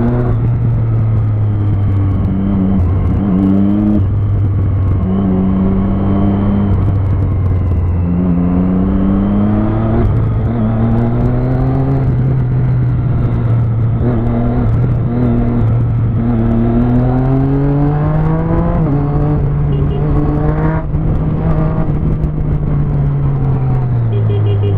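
A motorcycle riding on the road, its engine droning close and loud, rising and falling in pitch through repeated accelerations and gear changes.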